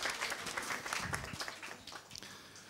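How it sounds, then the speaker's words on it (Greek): An audience at a Greek book presentation breaks into steady, moderately distant applause, a dense patter of many hands clapping throughout. "με το σκύλο μου, τον Αζόρ, το οποίο πρέπει να χειροκροτήσετε, παρακαλώ."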